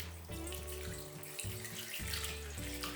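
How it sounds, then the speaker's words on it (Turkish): Warmed milk, half a litre, runs steadily from a container onto fresh yeast in a mixing bowl, a close, continuous liquid splash that pauses briefly a few times. No voices are heard. "Sütümü mayanın üzerine döküyorum."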